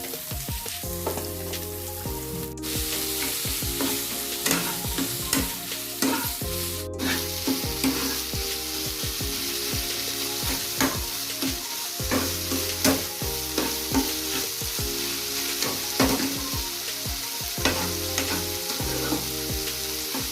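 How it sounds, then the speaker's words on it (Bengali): Mashed soybean filling frying in a pan with ground coriander and cumin, a steady close sizzle punctuated by constant rhythmic scraping and tapping of a spatula stirring it throughout. "দেখো আমার সোয়াবিনের পুরটা ভালো করে ভাজা হয়ে গেছে"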